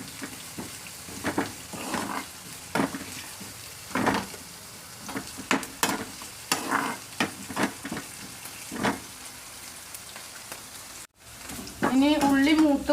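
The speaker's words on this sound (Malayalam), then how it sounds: "ഇനി ഉള്ളി മൂത്ത് വന്നിട്ടുണ്ട്" Onions frying in a pan for a drumstick stir fry give a steady, soft sizzle with scattered scraping stirs, fairly close, and a voice speaks briefly near the end.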